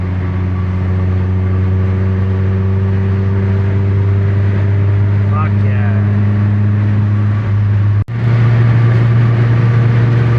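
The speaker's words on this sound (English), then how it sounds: "how the cars from the 90s, you know, and up, just how the engines sound. Especially with an exhaust on it." Datsun B210 with a swapped-in KA24E engine and aftermarket exhaust, a steady loud droning note held close by, shifting pitch briefly near the end; someone speaks a short exclamation over it.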